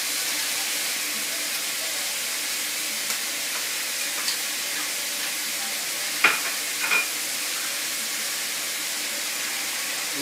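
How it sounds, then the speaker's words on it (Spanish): Meat cooking with onion and garlic in a frying pan gives a continuous, even hiss of sizzling fat throughout, close and fairly loud, with a couple of brief utensil clinks near the middle and no voices. "en una sartén, cocina la carne con cebolla y ajo"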